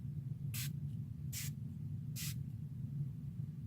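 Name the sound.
spraying rose hydrating face mist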